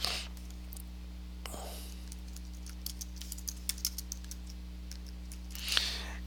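Light typing on a computer keyboard while writing a Google Blogger post, a quiet scattered run of soft key clicks over a steady hum, with a soft whispery voice at the start and a brief rustle near the end.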